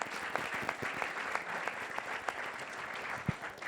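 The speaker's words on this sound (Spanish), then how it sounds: "Fuerte aplauso." An audience at an academic debate event gives a steady round of applause, with dense, even clapping throughout and a few louder individual claps standing out near the end.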